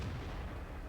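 A tank cannon fires in World of Tanks during a tier 8 battle, heard as a brief deep boom with a low rumbling tail, fairly faint and alone.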